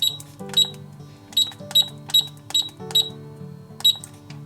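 Keypad of a LA GARD 700 series safe lock beeps as a code is entered: about eight short, bright electronic beeps at uneven intervals, close and clear, with no talking.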